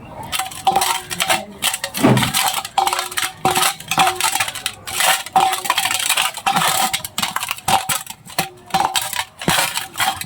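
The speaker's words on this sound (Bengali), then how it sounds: "সুন্দর করে কিন্তু ডিম মাখানো হচ্ছে।" Eggs are mixed with chili powder and spices in a bowl for a Bengali egg curry. A spoon gives rapid, loud, close clinks and scrapes against the bowl in an irregular rhythm throughout.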